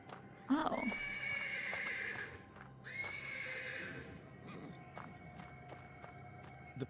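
A horse in the stables of the Black Book video game gives two long, drawn-out whinnies close by, each lasting over a second. Scattered hoof clip-clops and shuffling follow underneath.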